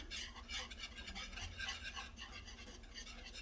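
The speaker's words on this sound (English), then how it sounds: "whisk this gently together, let it simmer" Bourbon barbecue sauce with garlic being gently whisked, a steady close scraping and stirring rasp that runs without pause and with no voices over it.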